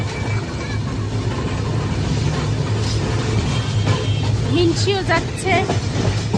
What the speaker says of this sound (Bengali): এই যে ট্রেনে উঠলাম ট্রেন ছাড়লো